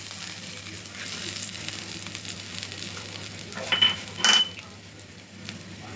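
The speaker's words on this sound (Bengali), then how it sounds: "ওই মাছের তেলে আমি এলাচ থেতো করে রেখেছিলাম ওটা দিলাম" Crushed cardamom hits hot oil left from frying katla fish, a soft constant sizzle with brief metallic clinks and stirring sounds near the end.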